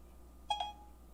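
A phone's voice assistant wakes with a short two-tone electronic beep, a quick pair of chimes lasting under half a second, fairly near and clear over a faint steady room hum with no talking.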